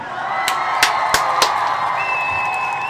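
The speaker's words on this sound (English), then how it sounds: "Let's give them a round of applause" Audience at a toast gathering applauding and cheering in a dense, steady wash, punctuated by a few loud, sharp slaps near the start.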